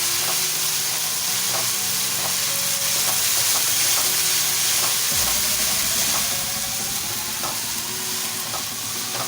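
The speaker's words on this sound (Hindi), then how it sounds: "अब हम इसमें लहसुन अदरक का पेस्ट डालेंगे और फ्राई करेंगे" Garlic ginger paste frying in a karahi for keema, a constant loud sizzle and hiss with occasional stirring scrapes and clinks close by, and no speech.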